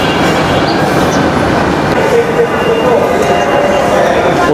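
Metro train at Uttara metro rail station in Dhaka: a steady, loud rumble of rail cars and station noise throughout, with faint voices in the background.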